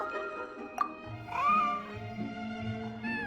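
A white, fluffy cat in Genshin Impact meows several times, up close and clear, with soft game music underneath.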